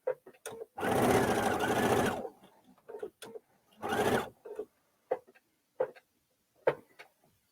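Sewing machine stitching a straight quarter-inch seam through a straight-stitch plate, with two bursts of fast rhythmic whirring, the first longer, and scattered clicks and handling knocks in the pauses between.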